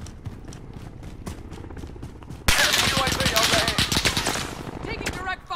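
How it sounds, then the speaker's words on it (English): Video game gunfire with sparse single shots at first, then a sudden loud burst of sustained automatic fire that is close and dense before it thins out, with voices talking over it. "Taking direct fire."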